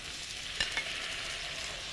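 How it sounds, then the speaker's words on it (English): Tomato sauce sizzles in a hot pan for spaghetti with meatballs, a continuous soft frying hiss with a couple of brief scraping stirs near the middle, faint and with no voices. "Dump in the tomato sauce in the pan."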